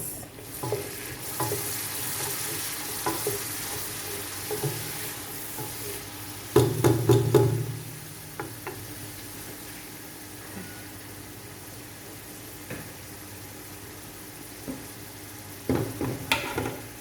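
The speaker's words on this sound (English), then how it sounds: "So this has been frying for a bit." Egusi sizzles steadily in a hot pan, with occasional scrapes and clatters of a utensil stirring, including a louder burst of stirring partway through.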